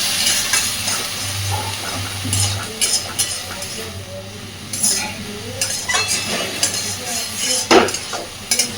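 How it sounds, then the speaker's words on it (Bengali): Taro flower mash with prawns being stirred and mixed in a pan, close clinks and scrapes of a spoon against metal over a faint sizzle and a low background hum. "কচুর ফুলটা দেওয়ার পর ভালোভাবে সব নাড়াচাড়া করে মিশিয়ে দেবো"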